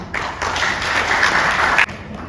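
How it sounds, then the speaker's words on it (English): Audience applause at a Xiaomi Redmi Note 11 series launch event in Oman, a dense wash of clapping filling the hall for about two seconds before cutting off abruptly. "And a round of applause for Mr. Eric Wang."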